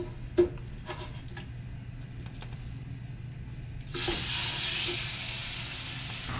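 Red snapper fish heads browning in a hot pot give a steady sizzling hiss that swells louder partway through, with a few light clicks and taps from cooking gear.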